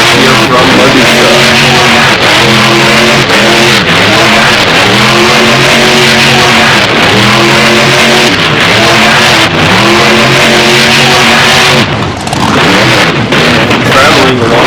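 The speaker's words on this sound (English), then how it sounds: "Now some donuts here from Medusa." Loud monster truck engine in BeamNG revving up and down in repeated wavering cycles while the truck spins donuts, close and continuous, with a brief dip near the end and a voice speaking over it.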